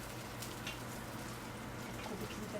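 Chicken pieces with cloves frying in oil in a covered pan, giving a steady, even sizzle and crackle close by with no talk.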